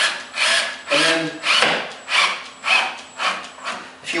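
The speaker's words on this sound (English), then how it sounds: "Just drill the first hole" A power drill bores a hole during assembly of a ProCraft RTA cabinet, in short repeated bursts of whirring about half a second each, close and fairly loud, with brief pauses between.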